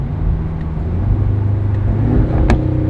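A 2026 Aston Martin Vantage Roadster engine rumbles and hums steadily, swelling slightly as it revs, with a sharp pop from the exhaust near the end.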